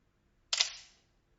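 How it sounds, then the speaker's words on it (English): An analog film camera's shutter release fires once with a single crisp mechanical click that decays quickly. It is close and fairly quiet against near silence. "Press the shutter button all the way down to take picture."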